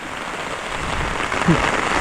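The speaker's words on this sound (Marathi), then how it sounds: "पाऊस नेमका आला रे" Rain falls steadily in a continuous soft hiss on surfaces, moderately loud and even throughout.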